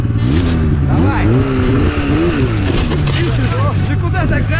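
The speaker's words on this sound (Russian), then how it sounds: "Ты куда так газуешь?" Hard-revving engine on a freeride drive in Abkhazia, rising and falling in loud, close surges throughout, with voices talking over the motor.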